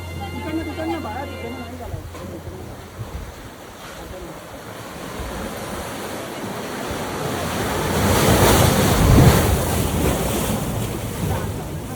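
Arabian Sea water surging into the narrow Bamanghal rock gorge at Hedvi on the Konkan coast, a continuous roaring wash that swells louder near the end, with wind buffeting the microphone and a voice faintly heard early on.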